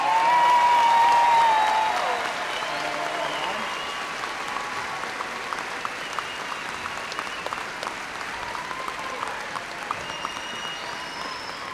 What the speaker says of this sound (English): if all of today's graduates could please stand for one final round of applause